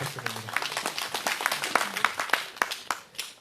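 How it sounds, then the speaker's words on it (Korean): An audience at an outdoor Wednesday anti-THAAD rally in Soseong-ri claps in a short, scattered burst of fairly faint, irregular hand claps. "우리 수고해주신 박선 선생님께 다시 한번 큰 박수 부탁드립니다"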